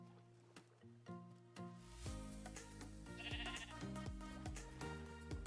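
Sheep in Minecraft bleat repeatedly in short wavering calls, several overlapping at close range over a steady background of game music, with no talking.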